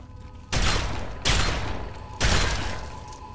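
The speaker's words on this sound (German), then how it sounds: "Drei Schüsse." Three sharp gunshots in the video game Fallout 3, each a loud sudden blast with a decaying tail, spaced unevenly with no talking between them.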